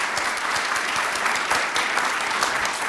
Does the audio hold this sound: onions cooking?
no